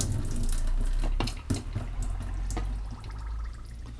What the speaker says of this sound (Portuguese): Vamos tirar todo o excesso de água aqui